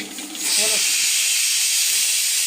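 A loud, steady hiss of escaping steam bursts in and continues without pause from a pressure cooker cooking horse gram.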